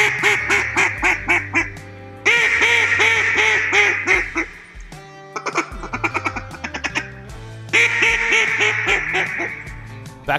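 Loud, nasal hen mallard quacks in rhythmic descending sequences, first a real hen and then a Beckman Edison duck call imitating her in flooded Arkansas timber, with several bursts separated by short pauses.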